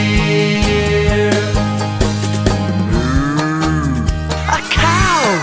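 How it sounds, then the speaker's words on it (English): A cow moos on a farm in a long, low, drawn-out call, with a second moo rising near the end. It plays loud over a steady, bouncy children's nursery tune. "A cow"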